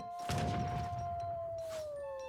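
A wolf howls in the real-time strategy game Age of Empires 3 as longbowmen attack it, one long sustained tone that slowly falls, heard alone over a faint in-game background wash.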